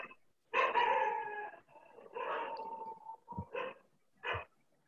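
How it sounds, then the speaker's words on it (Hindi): A dog barks and yelps in a short irregular burst, a couple of drawn-out howling barks followed by sharper single barks, fairly near against an otherwise quiet background. "कुत्ता भूख रहा है"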